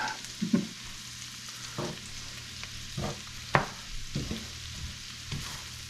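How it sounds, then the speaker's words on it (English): Fish fries in butter in a hot pan with a steady hiss, broken by several scraping knocks of a utensil stirring it. "Yeah, it's sizzling nice now."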